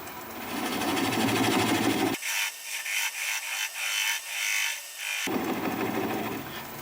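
A swept back bowl gouge cutting plum wood on a wood lathe turning at about 400 RPM, giving a rough scraping, rasping hiss that pauses briefly in the middle and then resumes, close and steady.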